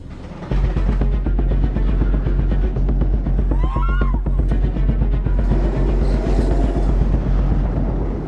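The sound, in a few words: Mystery Mine roller coaster mine train running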